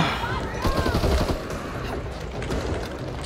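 Continuous rapid gunfire from Back 4 Blood roars as a dense, unbroken burst of overlapping shots, loud throughout, with faint voices underneath.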